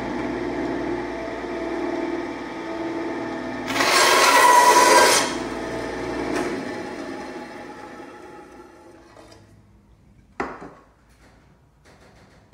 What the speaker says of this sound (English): using our bandsaw, we're just going to cut where we've marked it